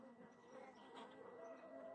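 Honey bees buzz around an open hive during a spring inspection, a faint, steady, close drone with no clear breaks over about two seconds.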